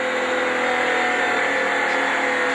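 NASCAR race car on the Chicago street course, a loud sustained engine roar close by, steady and unbroken throughout.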